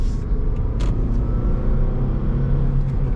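A Toyota Matrix S manual hatchback engine drones with a low, steady rumble heard from inside the car, holding a sustained tone with a few brief clicks and no talking.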